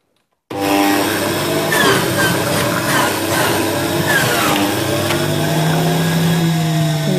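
A juicer grinds cucumber and courgette, a loud steady mechanical whir that starts abruptly after a brief silence and keeps running throughout, with shifting pitch as the vegetables are pushed through.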